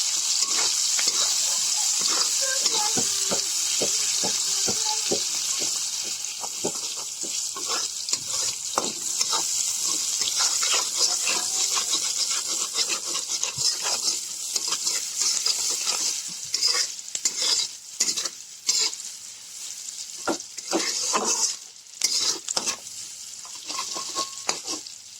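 Chopped onions fry in a pan with a steady, bright sizzle that runs throughout, punctuated by frequent scraping clicks of a spatula stirring, growing busier toward the end.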